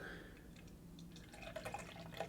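Amber ale with cinnamon and vanilla is poured from a can into a glass. It makes a faint, soft trickle and splash with bubbling fizz, quiet and close.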